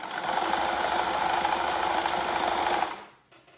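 A sewing machine stitching a fabric window valance runs steadily with a fast, even mechanical whir for about three seconds, then stops abruptly, leaving near silence.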